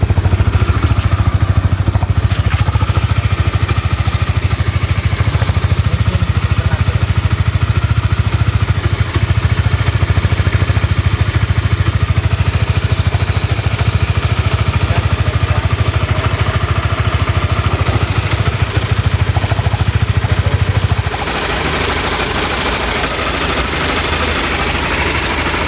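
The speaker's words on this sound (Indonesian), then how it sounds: "Nah ini bunyi motornya teman-teman lihat." A used Honda CBR motorcycle engine runs steadily with a loud, rough, clattering idle that continues unbroken for about twenty seconds before dropping to a quieter, lower hum near the end.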